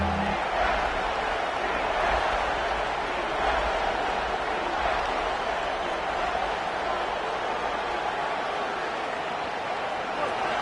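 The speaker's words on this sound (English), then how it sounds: "These fans are going absolutely nuts." Roaring football crowd in a packed stadium at an Auburn versus LSU college game, a dense, steady wall of cheering and noise lasting throughout at high level, with a faint low rumble underneath.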